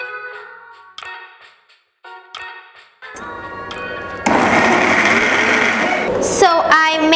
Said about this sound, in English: So I made this into a coarse paste.